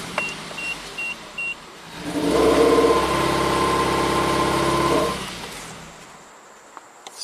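A 2008 Suzuki SX4 with low power runs on its cylinder 3 test: a few electronic beeps, then the engine cranks and idles roughly for about three seconds before stalling and dying away to quiet.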